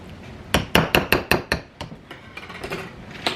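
A small whisk beats batter in a bowl for Christmas baking, giving a burst of sharp, evenly spaced clacks against the bowl that soften into lighter, quicker taps, close and fairly loud with no talk.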